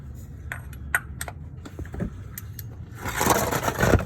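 Metal tools for a 2009 Honda Accord oil change clink and scrape as a wrench and extension are fitted together, light pings and rattles close by, ending in a louder jangle.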